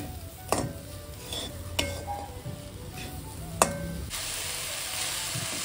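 Jaggery cooking down into syrup in a pan for khova kajjikayalu, giving a steady sizzling bubble with a few sharp clinks of a utensil against the pan and a brighter hiss toward the end.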